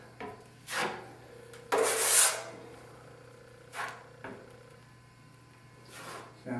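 A taping knife spreads drywall compound over drywall tape in short, separate scraping strokes, some brief and one longer rasping pass, close and fairly quiet against a low steady hum.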